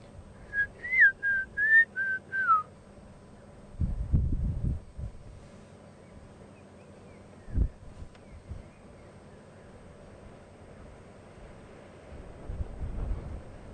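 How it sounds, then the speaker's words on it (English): A bird gives a clear whistled call of several quick rising and falling notes, fairly faint and distant, followed by gusts of wind against the microphone. "there's two birds with a beautiful whistle"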